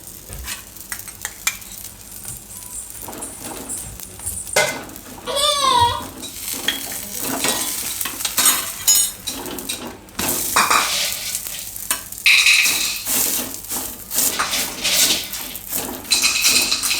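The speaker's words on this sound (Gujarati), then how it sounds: "આમાં આપણે પાઉંને શેકી લેવું" Pav buns roasting in a hot pan with pav bhaji masala, with a continuous sizzle under repeated stirring and the scrape of a spatula against the pan, close and steady throughout.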